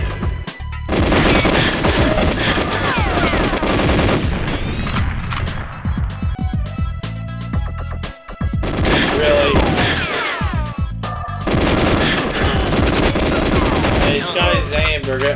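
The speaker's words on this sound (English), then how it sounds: "Shot me as soon as I so much as rounded that corner." Gunfire from GoldenEye 007 on the Nintendo 64, heard in loud bursts of rapid shots and explosive booms over dense game music and effects, with brief pauses between the volleys.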